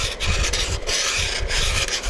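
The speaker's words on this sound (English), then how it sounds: "I'm going to take my sandpaper as usual" Sandpaper rubs a part of an Estes Mean Machine model rocket in continuous close, rasping back-and-forth strokes that stay steady and fairly loud, with no talking.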